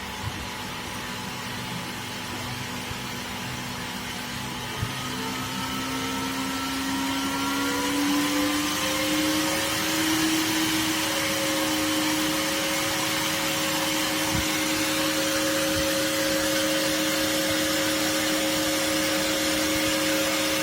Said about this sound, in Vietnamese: các bạn chú ý nghe tiếng quạt kêu và nhìn ở dòng này nó cũng tăng lên